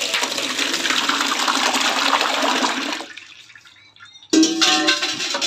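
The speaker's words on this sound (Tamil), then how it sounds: "புளியை கரைச்சிக்கலாம், கரைச்சி வடிகட்டிக்க வேண்டியதான்." Soaked tamarind is squeezed and worked by hand in water, producing a loud, continuous wet sloshing and gushing that drops to soft drips and squelches, then surges back abruptly.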